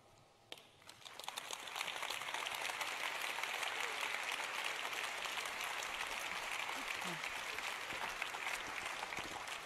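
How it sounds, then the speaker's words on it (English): A conference audience at a developer congress in Berlin breaks into applause for a speaker, starting with a few claps and swelling within two seconds into a steady, dense clapping that continues to the end. "Please give David a warm clap as he ends today."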